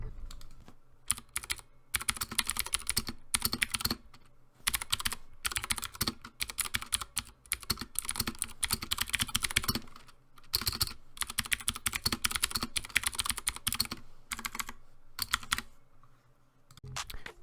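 Mechanical typing on a Drop ALT 65% keyboard fitted with Cherry MX Blue switches, a close, loud run of clicky keystrokes in bursts separated by short pauses.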